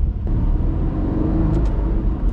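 Aston Martin Vantage Roadster cruising with the top down, a steady low engine rumble and road whir from inside the open cabin, with a couple of brief faint higher chirps partway through.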